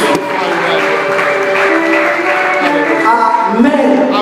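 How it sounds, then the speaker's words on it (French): A church congregation applauds and cheers in acclamation of Jesus, a dense, loud, sustained wash of clapping and crowd voices with singing-like tones mixed in. "Acclamons encore très fort le Seigneur Jésus."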